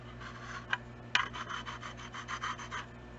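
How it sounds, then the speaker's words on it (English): New etched shop files, a fine and a medium cut, rasp against an object in light strokes: a steady run of about a dozen close, even, scraping passes after two sharper knocks near the start. "I think these would be good for really light filing on some objects"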